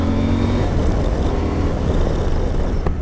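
KTM 790 Adventure motorcycle engine pulling hard under acceleration, a loud, steady close-up drone with rumbling low tones and wind roar and no break in the sound.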